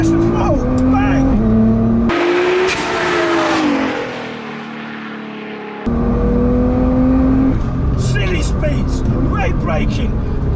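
A tuned 800 WHP Nissan GT-R Nismo engine revs hard and climbs in pitch through the gears, loud and close, with a driver speaking over it.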